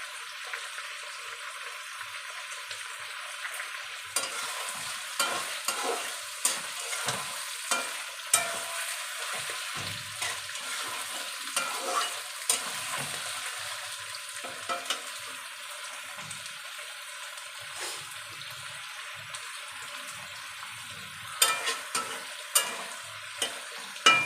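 Prawns and taro frying in a pan, a constant hiss of oil beneath repeated close scraping and clinking strokes as the mixture is stirred.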